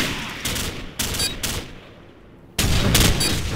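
Bursts of automatic gunfire in the video game Call of Duty 4 Modern Warfare during an online match, several loud rapid volleys separated by brief quiet gaps.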